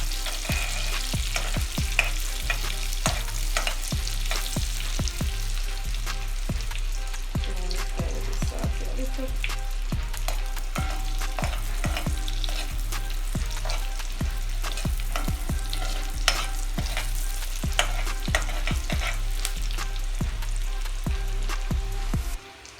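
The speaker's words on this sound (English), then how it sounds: "Saute a little bit." Food sautéing steadily in a pan, a continuous close sizzle broken by repeated scraping stir strokes throughout, with no talking; dinner being cooked during preparation for Hurricane Melissa.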